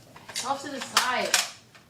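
A Nerf blaster fires its last foam dart during a backyard Nerf war, a few sharp pops and clicks close by, mixed with a voice and chatter.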